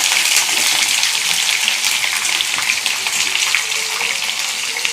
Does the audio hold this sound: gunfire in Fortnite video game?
no